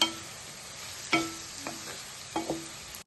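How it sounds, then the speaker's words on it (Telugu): Cluster beans and grated coconut frying in a pan, a faint steady sizzle broken by three or four brief scrapes and taps of stirring. "కొబ్బరి చిక్కుడుకాయలు కలిసే వరకు ఇలా కలుపుకొని మనం ఇది రెండు నిమిషాలు మగ్గనిద్దాం ఫ్రై అవనిద్దాం"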